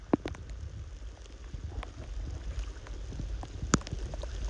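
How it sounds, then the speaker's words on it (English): Rain falls outdoors at a lake, a soft steady patter with scattered sharper drop taps close by and a low rumbling wind-like background. "And it's raining."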